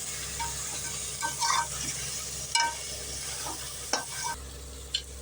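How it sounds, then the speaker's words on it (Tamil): Eggplant and masala sautéing in a pan, a soft steady sizzle at close range with a few scattered scraping stirs and clicks against the pan. "இந்த மசாலாவும் கத்திரிக்காயும் ஒரு ரெண்டு நிமிஷம் வதங்கட்டும்"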